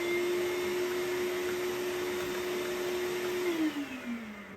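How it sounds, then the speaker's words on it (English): A small shop vac in a workshop runs with a steady high whine and airy roar, then its pitch sinks as it spins down after being switched off with a cordless switch. "that's where this hose goes to a little shop vac, and I just sweep my dust"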